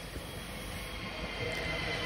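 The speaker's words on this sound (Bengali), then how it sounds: "যাওয়ার সময় কি সুন্দর পুরো একদম সাদা বরফের মতন ট্র্যাকের উপর দিয়ে ট্রেনটা আসছে" A train comes in along a snow-covered track in Belgium, heard as a quiet, steady rumble of rail noise that swells slightly toward the end, with no talking.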